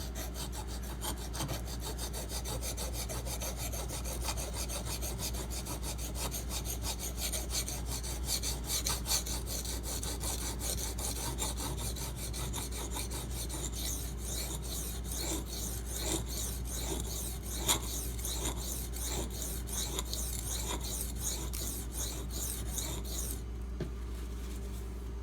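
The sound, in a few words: knife sharpening on a Kyoto 150 whetstone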